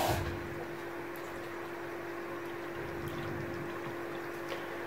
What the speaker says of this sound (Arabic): بدي احط هون نص كاسة مي ونص هون نص كاسة مي